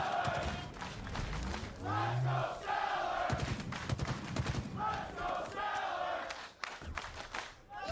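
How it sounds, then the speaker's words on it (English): A live esports crowd at a Halo tournament cheers and roars loudly in waves, mixed with sharp percussive bursts of in-game gunfire. "The crowd getting behind StelluR, and with good reason"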